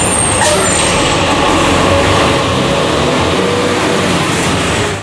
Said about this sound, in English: It wakes me up all the time when those air brakes are applied here.